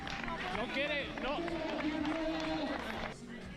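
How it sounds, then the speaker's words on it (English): Spectators cheer and shout along the course as a runner crosses the Tunte checkpoint during the Transgrancanaria 2023 ultramarathon, loud, near and continuous crowd voices with whoops, easing off near the end. "We can hear the people cheering up."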